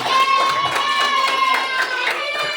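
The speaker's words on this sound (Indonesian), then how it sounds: "Oke, tepuk tangan." A class of fourth-grade children claps their hands together in a classroom, a dense, steady patter of many small hands with a thin tonal ring running through it.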